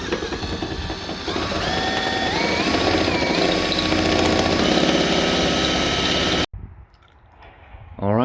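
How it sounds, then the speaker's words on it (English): A power drill boring a hole through the sealed-off metal body of a car, whining loudly and steadily for several seconds with its pitch shifting under load, then cutting off abruptly into near silence. "I decided to drill a hole."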